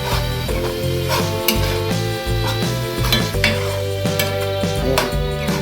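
Fresh tomato going into a pan of fatty lamb for a pasta dish, sizzling loudly while a utensil scrapes and stirs in a steady rhythm, with metal clinks cutting through and a droning hum underneath.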